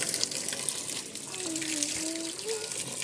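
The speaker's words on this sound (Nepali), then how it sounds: "स्कुटर फुक्का गर्दा यस्तो छ ढुङ्गे धारा।" Water pours steadily from a traditional carved stone spout (dhunge dhara) during a scooter blessing, a continuous splashing flow with a faint voice or tone rising briefly over it.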